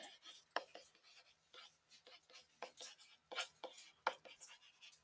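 Marker or chalk strokes on a classroom board while writing out vertex form, a series of short scratchy taps and squeaks in an irregular rhythm, close by, with faint low murmuring between strokes.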